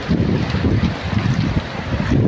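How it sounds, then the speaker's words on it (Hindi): Floodwater rushing loudly past, a dense, unbroken roar of churning water mixed with wind noise on the microphone, close and steady throughout with no voices. "तेज़ आवाज़ें निकाल रहा है पानी"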